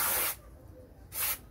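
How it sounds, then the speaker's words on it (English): Brake cleaner sprayed onto a car's brake drum in two short aerosol hisses, the first longer, close and loud with a quiet pause between. "a quick spray with brake cleaner will do the job"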